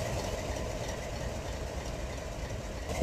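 Steam engines arriving at a rail yard in Utah, a faint, steady low rumble with rolling train noise and no voices.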